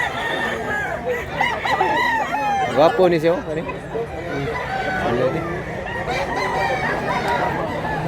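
Roosters crow repeatedly, loud and close, at a market where three are offered for sale, with a voice talking over and between the calls.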